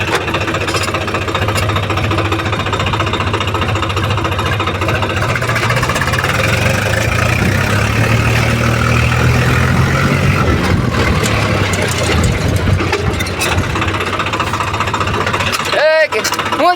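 A mini tractor engine runs loud and close, a rough, hammering diesel chug that holds steady throughout, with a voice talking over it at times.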